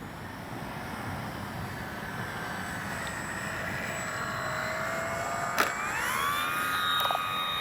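A Dynam BF-109 RC warbird plane flying a touch and go drones with a steady whine over faint background hiss, its pitch sweeping upward as it passes with a brief thump partway through.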